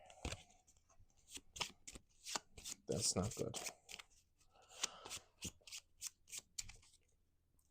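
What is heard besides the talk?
shuffling a deck of cards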